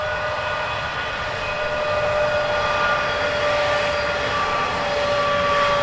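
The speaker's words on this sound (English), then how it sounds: "Just coal trains like this one." Coal train rolling past a campsite beside a two-track railway line in eastern Australia, a steady loud rumble with sustained tonal whine, continuous and close throughout without any talking.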